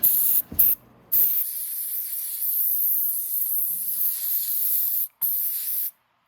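Close, loud bursts of aerosol cleaner spray onto disassembled scooter fuel pump parts, hissing in long sustained blasts with brief pauses between them, and no voices.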